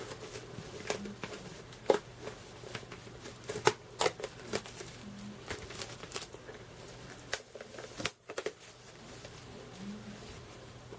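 Plastic wrap is peeled off a vinyl record album, quiet close crinkling and rustling in scattered bursts with brief sharp crackles.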